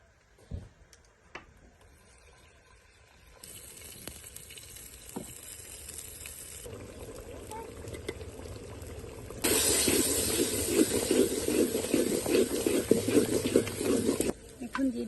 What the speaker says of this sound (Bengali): এখন খানিকটা পানি দিয়ে গুঁড়া মশলাগুলো দিয়ে দেবো